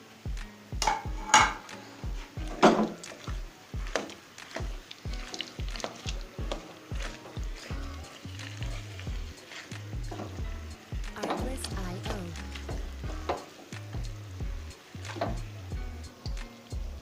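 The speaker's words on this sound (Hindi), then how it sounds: "अब मैं इसमें सारी चीज़ें शामिल कर लूँगी और इनको अच्छे से मिक्स करूँगी" Makhadi halwa ingredients get mixed in a pan, producing close, repeated scraping and knocking strokes in an uneven rhythm, with soft squishy stirring between the hits, fairly quiet and without talking.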